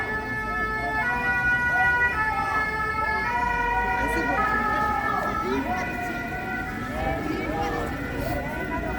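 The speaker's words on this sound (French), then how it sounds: "il y a les pompiers qui vont passer" A fire engine's siren wails with a sustained, shifting two-tone pattern as it passes through a street protest in Ivry-sur-Seine. It sounds loud and near, mixed with crowd noise and traffic rumble.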